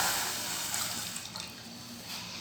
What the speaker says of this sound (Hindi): अब हम इसके अंदर पानी डालते हैं।